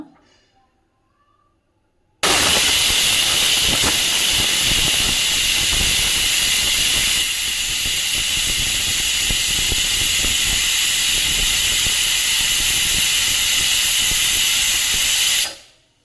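A pressure cooker cooking pudina rice bath on a gas stove suddenly lets off its whistle, a loud, steady hiss of escaping steam that holds for about thirteen seconds before cutting off abruptly.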